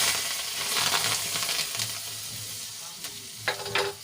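Steady oil sizzling with stirring scrapes in a spice mixture for potato vada filling, then a couple of sharper crackling bursts near the end as hot tempering oil hits the mixture.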